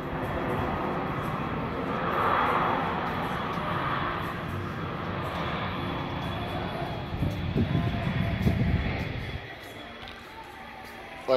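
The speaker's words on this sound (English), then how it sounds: "there's an airplane taking off right now." Airplane taking off at a small airfield in New Mexico, a broad roaring engine rush swelling and holding for several seconds before dropping away, heard from a distance amid terminal ambience.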